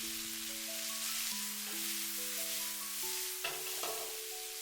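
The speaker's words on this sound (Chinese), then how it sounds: "接下來把切好的雞蛋塊也倒在鍋中，快速翻炒均勻， 使雞蛋和白玉菇完美的融合。" Egg pieces and white beech mushrooms are stir-fried quickly in a wok, giving a steady sizzle and frying crackle throughout with a couple of brief spatula scrapes near the end and no talking.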